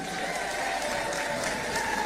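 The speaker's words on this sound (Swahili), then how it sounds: "Tujipigie makofi wamama" Women at a rally applauding themselves, a steady crowd roar of clapping that holds evenly throughout, full and close.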